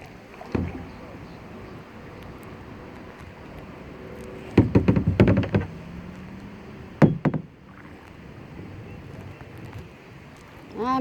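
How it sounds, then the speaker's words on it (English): A kayak on a river: its hull knocks and thumps in short clustered bursts with the paddle, separated by quiet stretches of soft water and air, heard close up and without speech. "I'm just cruising by myself, paddling one hand."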